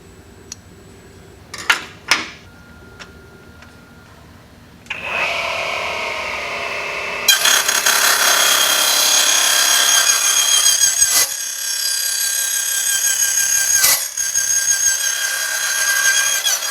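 TICHOP DC-9913 metal cutting saw running at 2000 rpm and cutting metal. A few sharp knocks come first, then the motor starts and a loud, harsh grinding cut carries on steadily for about ten seconds.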